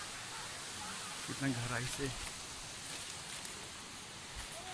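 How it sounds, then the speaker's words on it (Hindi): Water pours down the Tamada Ghumar waterfall in a constant broadband roar, loud and near, while someone speaks briefly over it midway. "गिर रहा, पानी गिर रहा, देखिए"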